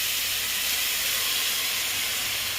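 Chaat masala frying in hot oil in a pan over a low gas flame, giving a steady, loud, close sizzling hiss without pause.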